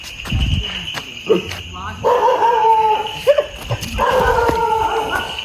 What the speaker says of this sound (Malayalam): അവിടെ ഞാൻ പറഞ്ഞ പട്ടിയാണ്ട്